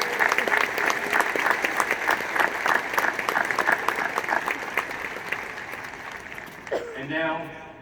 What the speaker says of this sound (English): Please join me in a round of applause for this incredible team.